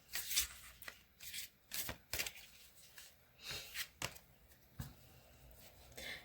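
Small circular oracle cards are shuffled in a series of brisk riffles and soft slaps, each burst short and close, separated by brief pauses.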